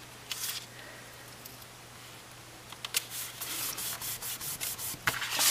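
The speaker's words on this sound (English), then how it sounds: "I'm going to trim off a little bit more of my banner at the top here." Trimming the top of a paper banner for a stamped card: after a quiet stretch with light handling, a run of rhythmic scratchy cuts or strokes repeats steadily and close by.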